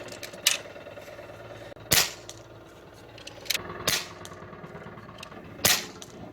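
A Kral Puncher Armour .22 bullpup PCP air rifle fires from a rest, several sharp, loud cracks spaced a second or two apart, each followed by a brief mechanical click of the action between shots.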